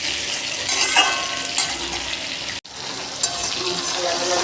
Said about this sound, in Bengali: চিংড়ি মাছ ভাজা হতে থাক।